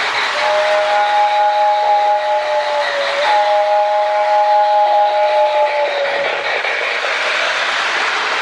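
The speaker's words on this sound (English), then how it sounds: "And the whistle works great. I like the sound of the MPC era whistles." Whistle of a Lionel MPC-era model steam locomotive sounds in two long steady blasts over the running train's hiss, close and loud.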